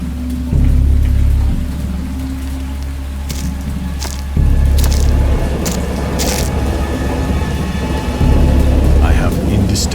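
Storm sounds in the Dagon video game, a steady downpour of rain with deep thunder rumbles swelling three times, fairly loud and continuous with no talking.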